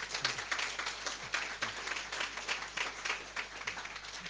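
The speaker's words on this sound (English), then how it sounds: "A big round of applause for Matthew" Audience applause after a talk on robotic automation, a steady, fairly quiet patter of many hands clapping that continues evenly throughout.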